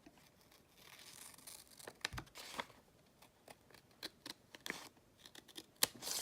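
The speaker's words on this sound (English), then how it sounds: "I think I'm going to cut it." Scissors snipping paper for a planner page, a run of quick, close, irregular cuts with light paper rustling and crinkling between them, no talking.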